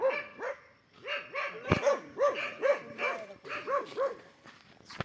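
Dogs bark close by in a quick, rhythmic run of sharp, repeated yelping barks with brief gaps between them, lasting throughout.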